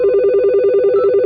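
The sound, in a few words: mobile phone ringing with an incoming call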